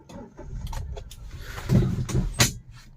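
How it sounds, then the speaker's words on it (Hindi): A car being started, heard as a short run of clicks and rustling followed by a louder mechanical burst and whirring catch near the end, close by and without talk. "एंड गाइज उसके बाद करते हैं अपनी कार स्टार्ट"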